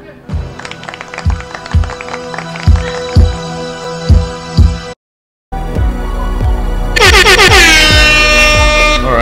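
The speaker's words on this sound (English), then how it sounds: "That's the air horn." Loud air horn blasts mixed with a rhythmic beat in a program segment, followed after a brief silence by a sustained blaring horn that grows denser and brighter.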